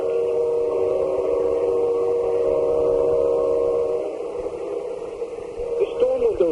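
A freight train passes near homes in Vinings, Georgia, sounding a loud, steady, multi-toned whistle blast that holds for about four seconds before dropping away, with a voice starting up near the end.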